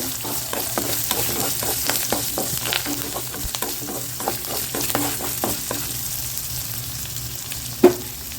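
Garlic and curry leaves sauté in a pan for a garlic chutney, giving a steady, close sizzle with soft scraping stir clicks scattered through and one sharp knock near the end.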